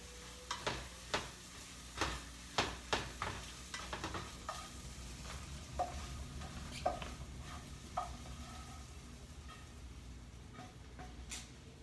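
Scrambled eggs with spinach and cheese being stirred in a hot pan: a steady sizzle underneath, with a run of sharp scrapes and clicks from the utensil, loud at first and then softer and more spaced out, with no voices.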